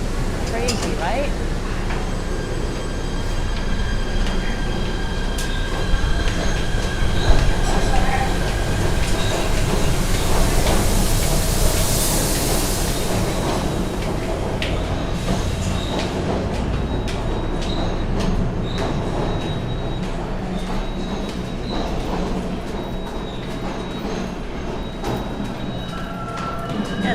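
A PATH subway train runs toward Journal Square, with continuous rumbling wheel noise, occasional squeals and clicks over the rails. Speech sounds over the steady train noise throughout.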